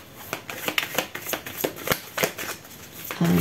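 Playing cards are dealt and laid out one by one into a nine-card spread, a quick series of crisp papery flicks and slaps close up, with a brief soft hum at the end.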